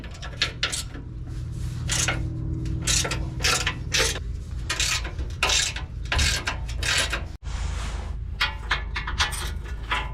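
A ratchet with an extension loosens skid plate bolts on a 2020 Toyota 4Runner TRD Pro, clicking in quick rapid bursts close up, with short pauses between strokes and a metallic clank partway through.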